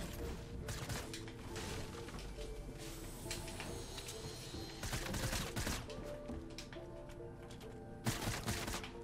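Gunfire strikes a player's build during a Fortnite match: bursts of shots and impact crackles come thick and continuous at moderate loudness, with heavier volleys near the middle and the end over a busy game backdrop.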